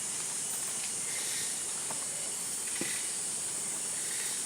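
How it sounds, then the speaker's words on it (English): Rain beginning to fall in the Amazon rainforest near a lodge in Ecuador, heard as a steady, even hiss with a few faint ticks and patters, no voices. "Het fängt an zu regnen, komm."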